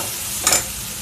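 Soybeans frying and being stirred in a pan while cooking brown rice vegetable pulao, a steady sizzle with a single short scrape of the spoon in the middle.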